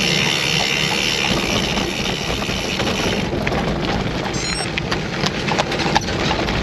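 Horses clip-clop near a château, steady hoof beats over a loud, continuous wash of wind noise, with faint rattling and clatter breaking through toward the end.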